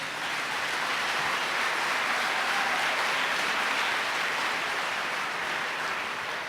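An audience at a Montana economic development summit applauds Senator Baucus, a dense, steady wash of clapping that carries evenly from start to end without a break.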